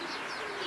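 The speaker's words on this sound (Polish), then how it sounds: "Nie, to gołąb. O, gołąbek." A pigeon coos nearby, a soft low warbling call that rises and falls in one brief phrase.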